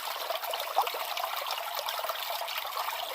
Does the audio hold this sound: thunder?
no